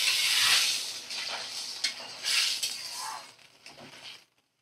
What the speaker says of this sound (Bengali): এবার দেখো আমি পরিমাণ মতো জল দিয়ে দিচ্ছি